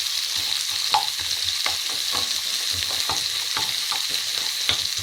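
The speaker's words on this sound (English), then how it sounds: "Let those onions cook through before we add some spice to this." Chopped onions fry in a pan over low to medium heat, a steady close sizzle with scattered crackles and pops throughout, plus the occasional soft stir.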